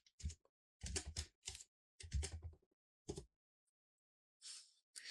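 Typing on a computer keyboard while entering a project address in Tekla Structures software. Quiet, close clusters of rapid key clicks come in bursts with short pauses, and no voice is heard.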